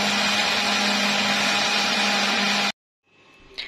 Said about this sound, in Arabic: ضفتهم، هضربهم في خلاط